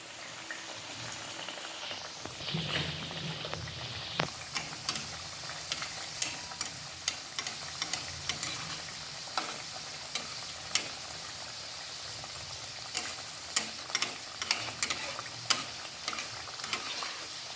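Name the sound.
Mughlai paratha frying in hot oil in a kadai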